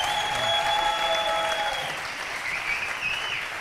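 An audience applauds the band before their concert, a dense wash of clapping with a couple of sustained whistles over it that eases slightly toward the end.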